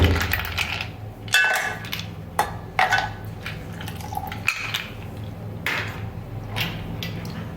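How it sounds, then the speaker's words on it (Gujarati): Ice cubes clatter into a steel mixer jar for jaggery sharbat, a string of sharp clinks and knocks at irregular intervals, close and fairly loud, with no talk over them. "હવે આપણે આમાં બરફના ટુકડા નાખીશું।"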